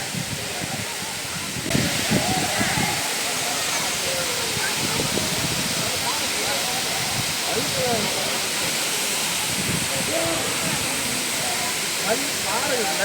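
A steady rushing roar of falling water at a waterfall in the Kolli Hills fills the scene, with voices talking faintly underneath throughout.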